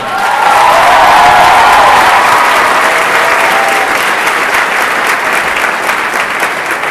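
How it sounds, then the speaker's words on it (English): Loud, sustained applause from a commencement audience cheering graduates, swelling quickly at the start and then easing into a steady wash of clapping that fills the hall. "Let's give them a round of applause."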